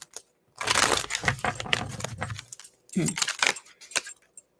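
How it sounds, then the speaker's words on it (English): Keys on a ring jangle and rattle nearby in two long, bright metallic bursts, separated by a short pause and followed by a few lighter clinks. "Keys on a ring, yeah"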